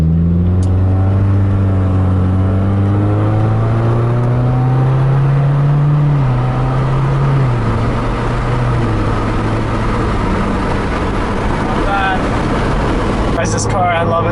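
A Subaru WRX accelerates hard with the windows down, engine pitch climbing steadily through a gear, then a shift and another long rising pull under wind roar, with people talking over it.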